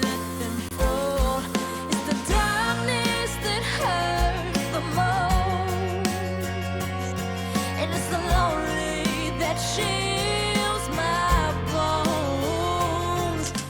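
A distorted, gritty 1970s-style instrument track processed through a plugin plays continuously, with dense, buzzing harmonic tones over a driving low-end rhythm, loud and alone.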